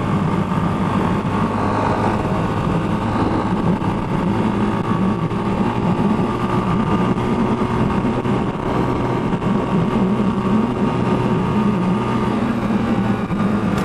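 Italika SPTFIRE motorcycle engine heard while riding on a road, a steady, continuous drone with wind noise, constant in level throughout with no speech.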